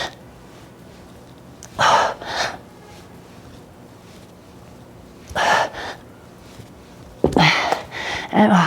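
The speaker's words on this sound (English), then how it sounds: "I was breathing really heavy into the mic." Heavy, gasping breaths blown close into a microphone during a dumbbell upper-body workout, coming in three loud bursts of one or two breaths each, separated by quiet pauses.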